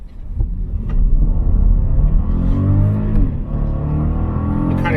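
2021 Volkswagen Atlas SE with the naturally aspirated VR6 V6 accelerating, a close, deep engine rumble swelling as revs rise, with the pitch climbing steadily and no talk over it.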